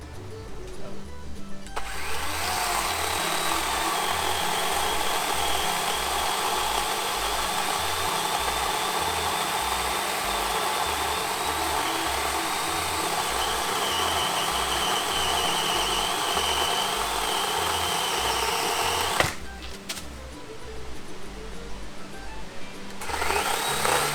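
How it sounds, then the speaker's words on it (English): A small DeWalt 20V Max XR electric chainsaw whines steadily and loudly for about twenty seconds as it cuts through a tree limb, then stops briefly before revving again near the end. "Pretty good sized limb for a little electric chainsaw to cut through."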